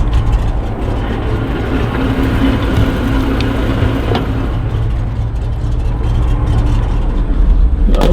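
The engine of a 55-year-old farm truck idles steadily and loud close up, a low, rough, continuous rumble with no speech over it.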